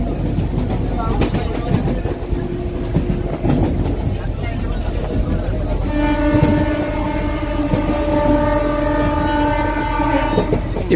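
A crowded MEMU train departing Anakapalli rumbles and clatters steadily over the rails, with a long horn tone rising in over the last five seconds.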